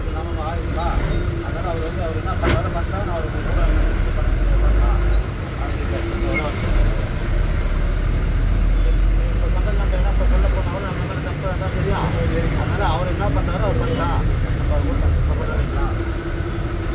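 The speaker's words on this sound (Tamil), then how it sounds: "அளவுக்கு மீறி டிராஃபிக்" Dense highway traffic with a steady low rumble of many vehicles passing, continuous and fairly loud throughout, with a service road alongside also crowded with cars.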